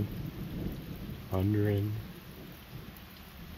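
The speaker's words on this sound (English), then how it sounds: "Hopefully this storm passes." Steady rain falls during a thunderstorm, heard as a constant broad wash with a low rumble. Someone speaks briefly partway through.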